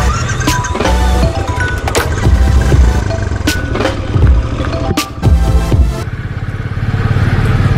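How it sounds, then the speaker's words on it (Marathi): A Royal Enfield Trials 500 motorcycle rides over rough off-road ground, its engine thumping close up amid repeated sharp knocks and clatters from the bumpy terrain. "आता मी जी बाइक राइड करत आहे ती आहे रॉयल एनफील्ड ट्रायल 500"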